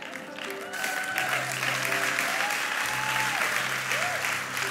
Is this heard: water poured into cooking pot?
no